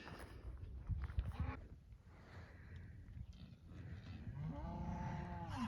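Cattle on a ranch moo repeatedly as the herd moves through an open gate into a second pasture, low calls rising over a steady outdoor background, with a few overlapping moos near the end.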